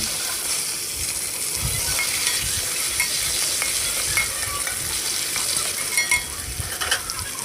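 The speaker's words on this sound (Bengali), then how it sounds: "এবার আমি ওই আলুগুলো দিয়ে দেবো। আলুগুলো একটু ভাজা ভাজা করে নেব।" Potatoes frying in oil tempered with whole cumin, bay leaf and dried chilli, a constant sizzle under repeated scraping and stirring strokes of a spatula against the pan, close and fairly loud.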